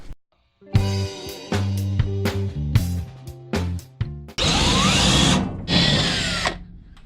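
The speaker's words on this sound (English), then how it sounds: "I just have a drill bit here, and I'm just going to, bam, pops right off." A power drill bores out rivets in the floor of a Sprinter van, giving a run of short, loud bursts followed by two longer whining grinds, close and alone with no talk.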